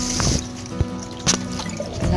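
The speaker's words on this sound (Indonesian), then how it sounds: "Nih, air mengalir dari pipa pertama ini ya." Water trickling and dripping through a hydroponic DFT pipe system, flowing from the first pipe into the next, with a steady close trickle broken by a few small splashy drips and no talking.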